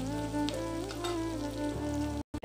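Ginger garlic paste frying in a pan gives a steady sizzling crackle under a faint background hum, moderately loud and close, ending in a brief cutoff.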